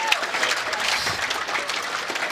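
Applause from spectators at a squash semi-final, men's singles, a dense burst of clapping that runs steadily from start to finish.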